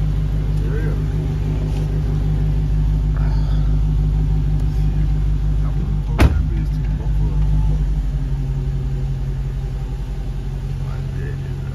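A supercharged Dodge Challenger Hellcat Redeye rumbles with a deep, steady low drone heard from inside the car, with people talking over it and a sharp knock midway.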